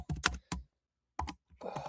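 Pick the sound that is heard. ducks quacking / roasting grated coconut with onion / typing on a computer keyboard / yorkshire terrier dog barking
typing on a computer keyboard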